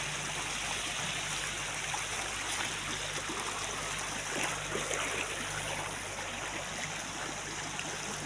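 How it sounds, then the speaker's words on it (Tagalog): A clear river at Escaran farm, a picnic and swimming spot, flows continuously with a steady, even rush and trickle of water, heard alone without voices. "Ito yung ilog dito sa amin"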